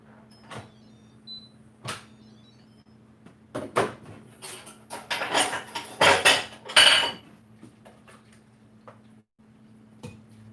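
Metal clinks and clatters as an Instant Pot lid is handled and food inside is checked in a home kitchen, a series of sharp knocks and scraping rattles that grow busier midway.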